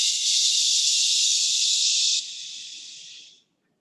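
A slow, steady breath exhaled through the teeth as a long shh hiss during a seated chair-yoga breathing exercise, loud and close, holding level and then fading out over several seconds.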